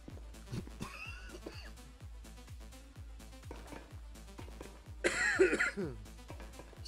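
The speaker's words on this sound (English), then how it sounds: "Sneezing, now I'm coughing up a storm." A person coughs in a short, harsh burst indoors, with a louder rough cough near the end over steady background game sounds.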